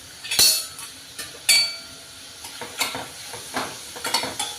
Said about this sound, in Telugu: ఉల్లిపాయలు కొంచెం వేగాలి.